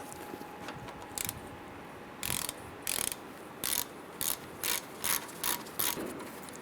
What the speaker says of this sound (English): there are two 15mm bolts you want to loosen and remove